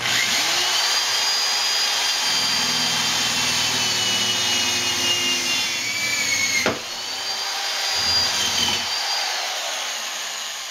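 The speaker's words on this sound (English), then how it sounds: "So let's go ahead and drill it in." A steady, loud power-tool whine runs throughout, dipping briefly twice as the motor eases off, with a sharp click partway through.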